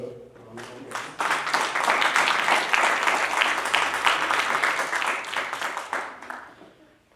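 Applause from the audience at a district road safety debate competition for a secondary school speaker, rising quickly to a dense, energetic clatter of many hands, then gradually thinning and fading out.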